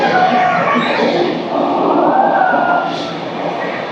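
Rumbling, roaring train noise fills the clip steadily from start to finish as a passenger train runs through a long tunnel between Araku valley and Visakhapatnam, with faint voices mixed in.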